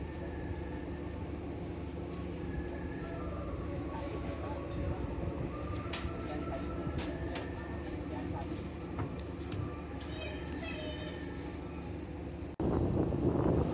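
Steady low rumble of the KA Serayu economy-class train running toward Sidareja station in Central Java, heard close from inside with wind-like rushing noise and faint murmuring voices, growing suddenly louder and rougher near the end.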